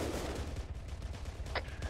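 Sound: gunfire in a military video game

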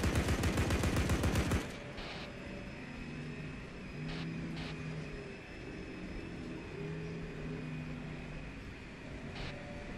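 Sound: vehicle gunner machine gun fire in video game Arma 3

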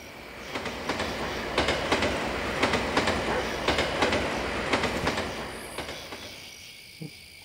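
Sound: train passing in video game Yomawari: Night Alone

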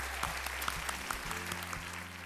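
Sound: applause for a game show team

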